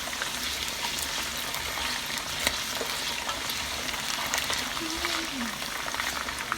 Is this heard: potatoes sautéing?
yes